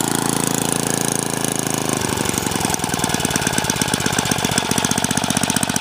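A Troy-bilt rototiller's small engine with a new fuel line revs up hard, a loud, rapid, chugging throttle-up close by, with no voices.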